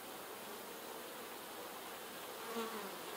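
Honey bees buzz steadily around an opened hive during a colony split, a soft continuous drone that swells slightly near the end, with no talking.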